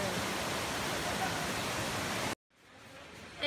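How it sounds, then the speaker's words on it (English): The third waterfall at Cambais Falls in Alegria, Cebu, a steady roaring rush of falling water, loud and continuous for a few seconds before cutting off to quiet. "This is part of the third waterfall."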